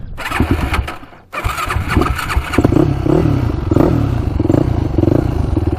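A Yamaha YFZ450 quad's engine is cranked, catches after a brief pause, and settles into a loud, close, rapid-pulsing idle with slight revving.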